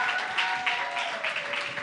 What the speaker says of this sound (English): Let's give him a better round of applause.